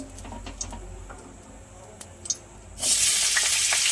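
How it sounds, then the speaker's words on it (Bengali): Vegetables frying in white oil in a kadai, a faint sizzle with light stirring clicks that jumps to a loud, steady hiss near the end. "এই যে কড়াইতে সাদা তেল দিয়ে দিয়েছি, সবজিগুলো ভালো করে ভেজে নেব।"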